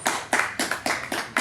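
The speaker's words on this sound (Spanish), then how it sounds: "Un aplauso a ella, por favor." Clapping in a small audience welcoming a speaker at a talk, heard as six or seven evenly spaced bursts, close and fairly crisp, with no voices.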